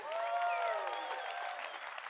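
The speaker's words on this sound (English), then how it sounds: "So give your guys a huge round of applause." Conference audience at the Fund Launch Live business event applauds steadily for about two seconds, a dense wash of clapping with some tonal music-like lines riding on top, fairly loud and sustained throughout.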